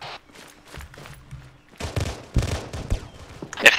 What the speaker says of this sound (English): I'm still hearing a lot of gunshots coming out of the base.